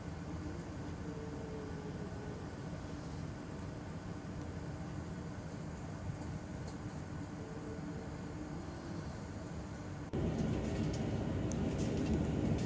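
Interior of the Sembrani executive passenger train on the Jakarta to Surabaya route while running, a steady low rumble and rolling noise that grows louder near the end, with no talk.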